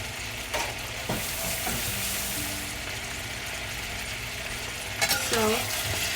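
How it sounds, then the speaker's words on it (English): Chicken stir-frying over high heat in a pan with onions and chilies, a steady loud sizzle throughout with occasional utensil scrapes and clinks, no voices. "we're going to stir fry the chicken in high heat for about a couple minutes"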